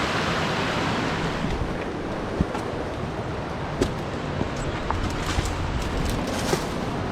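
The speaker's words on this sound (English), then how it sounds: "This creek is really moving." A fast-flowing remote mountain creek rushes in a constant, loud broadband wash, with wind buffeting the microphone and occasional sharp splashes or clicks over the steady roar.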